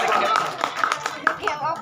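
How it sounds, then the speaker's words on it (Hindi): Audience applause at a Hindi kavi sammelan poetry gathering in Malipura, a brief burst of clapping mixed with the poet's ongoing voice and a few chuckles, close and moderately loud. "जोरदार तालियां"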